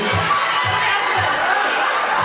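A wedding crowd cheers and shouts after a dance contest, a loud, dense wash of voices over a steady thumping music beat.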